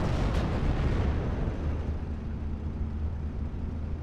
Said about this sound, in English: Let's have the Spitfire come in and bomb that Stug 3.